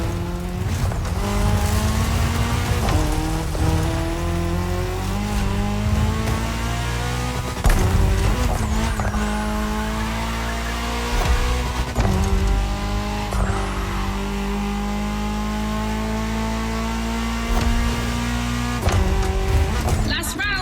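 Race cars in The Crew Motorfest game, including the Audi S1 EKS RX Quattro rallycross car, roar loudly with revving engines, gear shifts and tire squeals under continuous commentary.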